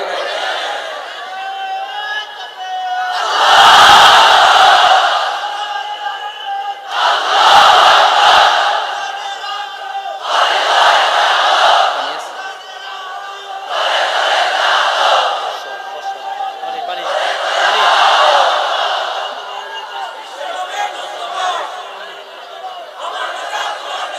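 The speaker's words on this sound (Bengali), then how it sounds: "তাকবীর দেয়া যাবে? জোরে না আস্তে?" A large crowd at an Islamic gathering chants the takbir in unison, roaring out five loud bursts spaced a few seconds apart, with brief lulls between each call.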